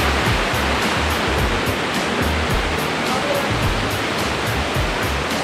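Clear river water rushing at a bathing spot, a continuous loud broadband roar of flowing water that stays steady throughout, close to the source with no voices.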